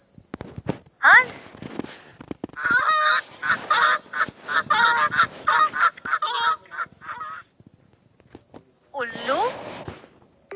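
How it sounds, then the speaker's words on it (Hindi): Goose honking in loud, close, repeated calls, a dense run of harsh honks followed by a pause and another brief burst, with no talk. "हंस"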